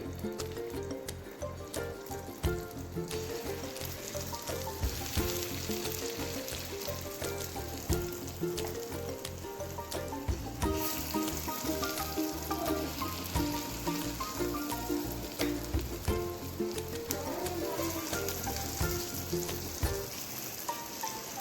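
Jackfruit unniyappam batter frying in hot oil, a constant close sizzle and crackle that runs evenly throughout, partly buried under loud steady music with a regular beat.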